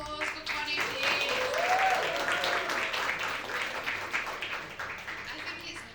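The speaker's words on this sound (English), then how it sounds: "Can we get another round of applause for Connie" An audience at a poetry lounge applauding a poet, a dense rush of clapping that swells early, stays full, then thins toward the end, with a voice speaking over it.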